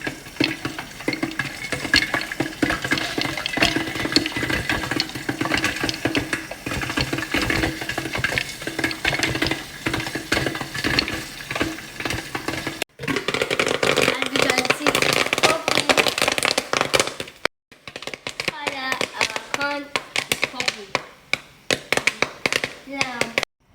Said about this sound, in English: As you can see, our corn is popping.